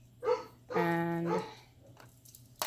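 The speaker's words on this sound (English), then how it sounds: "my dog is barking because he knows I'm home" A dog barks indoors, a short yip followed by a longer, drawn-out howling bark, somewhat muffled as if from another room, with a faint noise at the end.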